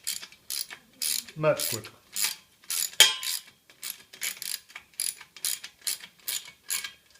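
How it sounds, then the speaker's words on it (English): 10 mm socket wrench ratcheting close up while bolting together a SKIL 3310 table saw, a series of quick repeated clicking bursts, with a brief spoken remark partway through. "Let me go get a socket wrench and I'll be back."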